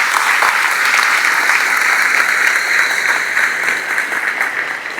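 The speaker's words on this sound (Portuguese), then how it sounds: "Pode aplaudir, não é mais fracasso." Church congregation applauding during a sermon, a broad, steady roar of clapping that holds at full strength and eases slightly toward the end.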